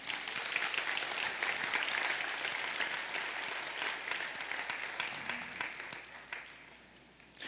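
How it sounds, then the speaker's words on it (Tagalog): A church congregation at a midweek service claps together in a dense, sustained round of applause that gradually thins and fades out. "Pwedeng pumalakpak naman kayo"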